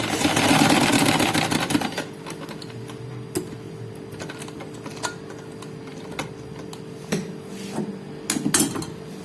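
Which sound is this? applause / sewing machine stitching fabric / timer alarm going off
sewing machine stitching fabric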